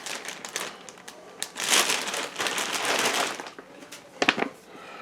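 Cardboard and plastic packaging from a Secret Jardin DR150 Dark Room grow tent box crinkle and rustle close by, with bursts of crumpling, a long tearing stretch in the middle and a few sharp crackles near the end.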